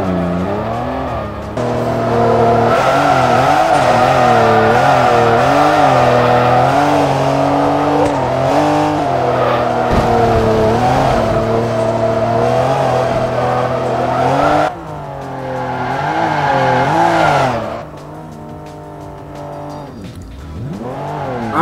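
A Porsche race car engine in Forza Motorsport 3 roars loudly and steadily, with rising and falling revs through gear changes, briefly dipping before surging again near the end.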